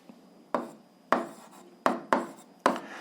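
A pen writes out an algebra solution on paper, making five or six short, crisp strokes and taps at an uneven pace, close up in an otherwise quiet room.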